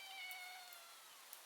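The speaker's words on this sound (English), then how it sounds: "We heard a little meow from the cat there." A cat gives a single soft, high meow that trails off, fairly faint against a quiet background.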